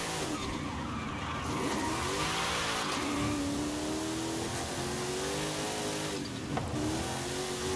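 Car in the racing game Forza Horizon 5 driving a continuous lap, engine droning and shifting pitch as it accelerates, with tire skids and squeals over a dense, steady mix, no talk.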